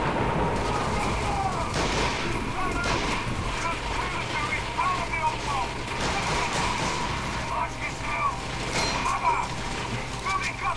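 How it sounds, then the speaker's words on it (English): Gunfire in the video game Medal of Honor during a mission in a port city, with rapid bursts and scattered shots over a continuous battle din and a voice heard at times. "Open the fire!"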